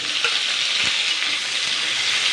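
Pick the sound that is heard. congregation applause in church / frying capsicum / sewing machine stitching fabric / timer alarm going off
frying capsicum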